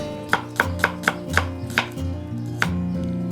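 A knife slices shallots on a cutting board in a run of crisp, evenly spaced chops that slow toward the end, close and clear with no talking.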